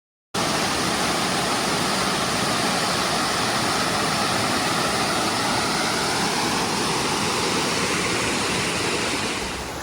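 A small river flows past a shady bank, giving a dense, steady rushing and gurgling that starts abruptly and stays loud and even throughout, with no voices.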